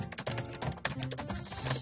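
Quick, close keyboard typing with irregular clustered clacks, fairly quiet and unaccompanied by speech.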